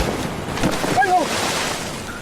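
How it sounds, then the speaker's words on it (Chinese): Ocean waves surge as the tide rises quickly along a fishing village shore, a steady broad roar mixed with wind buffeting, with a brief faint whistle partway through. "涨潮了！ 这个时候涨潮了！ 潮怎么涨这么快？"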